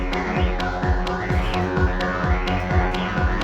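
A Befaco Oneiroi synthesizer plays through its resonator, producing a loud, dense, ringing drone with rhythmic pulses and descending pitched blips repeating steadily every half second.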